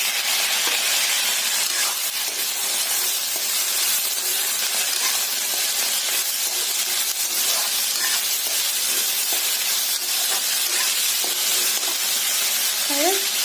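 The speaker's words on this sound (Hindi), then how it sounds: "और करीब इसे 10 मिनट तक ऐसे ही चलाते रहेंगे।" Vegetable cutlet mixture sizzles and fries steadily in a pan while a spoon stirs it, a continuous close hiss with scattered scraping clicks throughout.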